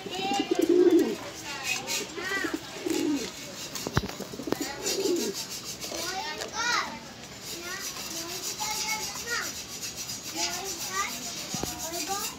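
Pigeons being fed coo repeatedly in soft, throaty bursts, some close and some farther off, with children's voices and other talk mixed in around them.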